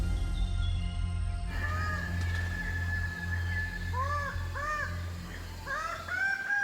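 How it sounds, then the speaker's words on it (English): Birds of paradise call in Raja Ampat, Papua, with harsh, caw-like calls arriving in short bursts over a low, pulsing backdrop in the second half. "These are the birds of paradise."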